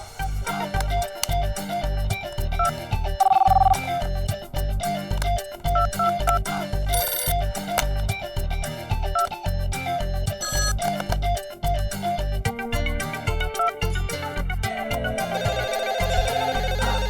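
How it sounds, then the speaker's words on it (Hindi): A phone ringtone plays a repeating electronic melody in steady pulses, loud and close, continuing throughout with no voices. "फोन को भी ना तभी बजना होता है जब मुझे काम होता है।"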